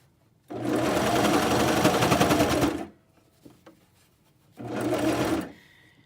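A Brother CV3550 coverstitch machine runs in two bursts while sewing a seam on a cardigan, a steady, fast mechanical whir of about two seconds, a short pause with small clicks, then a briefer second run.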